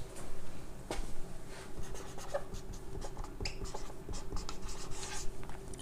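Pen scratching on paper while working a physics problem about a spring launching a ten-kilogram mass, steady close-up writing strokes with small pauses over a low hum, no talking.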